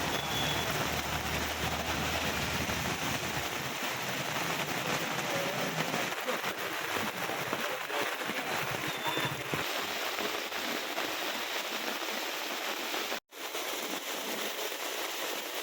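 Steady rain pours down in Narmada district, Gujarat, in a dense, even hiss that continues throughout, briefly cutting out near the end.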